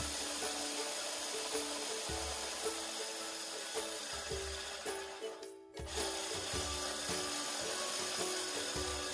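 A McLane reel mower is backlapped with lapping paste, the blades of the spinning reel cylinder rubbing steadily against the bed knife in a continuous gritty, rasping whir with a faint rhythmic pulse and a short dip midway.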